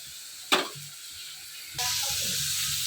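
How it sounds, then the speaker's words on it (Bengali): Potatoes frying in a pan give a sharp sizzle after a brief clatter, then settle into a steady, close crackling hiss that continues to the end. "তো তার জন্য এই যে আলু ভাজা বসিয়েছি এখানে"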